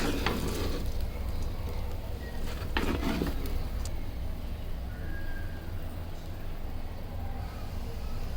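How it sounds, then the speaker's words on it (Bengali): Rice and lentils being lightly fried in a rice cooker for bhuna khichuri give a steady soft sizzle, broken by a few brief scraping stirs. "আমরা রাইস কুকারে হালকা করে ভেজে নিচ্ছি।"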